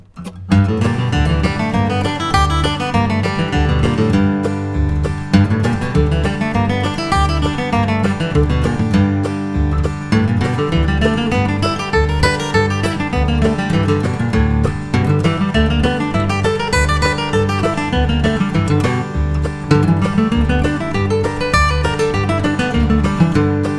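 Bluegrass guitar runs steady scale patterns over a strum machine backing track at about 100 beats per minute, a continuous bright flatpicked line with even rhythmic chords underneath, loud and close with no talking.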